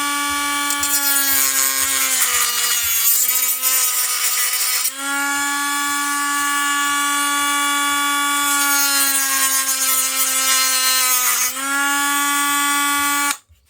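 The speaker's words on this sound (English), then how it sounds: "that's the advantage of using a Dremel" A Dremel rotary tool cuts around a metal washer during a restoration, sending up sparks and burning plastic; a loud, sustained high-pitched whine holds steady with slight dips in pitch as the bit meets resistance, close and without speech.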